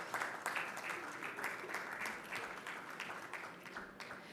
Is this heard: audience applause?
yes